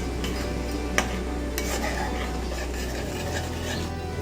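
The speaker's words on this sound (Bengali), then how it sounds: "গুড়টাকে বেশ ভালোভাবে মিক্স করে নিলাম" Soft scraping and stirring as jaggery is mixed into mango firni in a pot, quiet continuous strokes with a low hum and an occasional light clink of the spoon.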